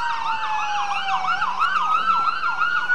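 Wailing sirens from several police cars overlap and rise and fall continuously, loud and fairly close, with traffic rumble underneath.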